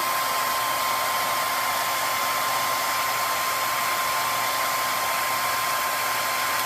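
A hair dryer blows a steady, loud rush of cool air at close range onto freshly applied 3D fiber mascara, with a constant whine and no breaks or speech.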